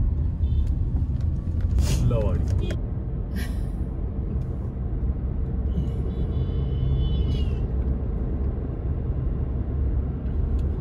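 A car crosses the Mahananda bridge near Siliguri en route to Lataguri, with low, steady road and engine rumble, a few sharp clanks and hisses from passing traffic, and people talking inside the cabin.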